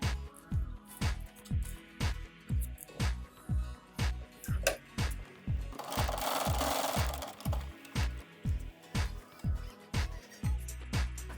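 Sewing machine stitching a drawstring tie for a cradle, a close, regular rhythmic chatter of the needle in steady bursts, briefly broken by a softer rustle of fabric partway through.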